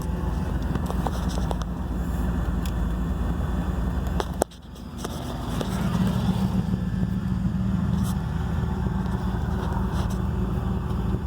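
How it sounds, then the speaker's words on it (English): A loud, steady LS V8 engine in an S10 truck idles close by at about 850 rpm with a low, even drone, briefly dipping before settling back into a constant idle. "Give it a little gas, now it's idling about 850."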